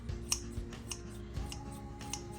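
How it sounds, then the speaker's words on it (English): Kitchen shears snip fresh herbs for a Cajun shrimp salad roll, giving several short, crisp clicks spaced unevenly over a steady kitchen background hum, fairly quiet and close. "I'm also gonna use my kitchen shears once again"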